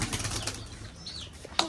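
Pigeons taking off and flying from a pet loft: a rapid, close flutter of flapping wings with a few sharper claps, fairly soft overall.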